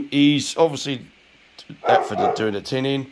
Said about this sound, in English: excuse the dogs that bark all the time here